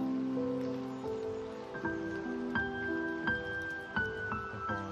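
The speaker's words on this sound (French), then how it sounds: "les gouttes de pluie qui tombent" Raindrops falling at Eihei-ji, a Japanese mountain temple, soft scattered drips and taps over a quiet background, with clear tonal chime-like notes ringing out one after another throughout.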